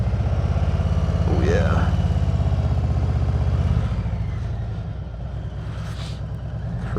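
A 2020 Harley-Davidson Road Glide Special under way, its engine a steady low rumble that is loud and close and eases slightly near the end, with someone speaking briefly over it.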